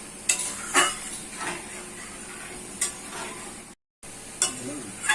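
Food sizzles quietly in a pan on the stove while a utensil stirs it in a few sharp, irregular scrapes against the pan, with a faint constant hiss between them.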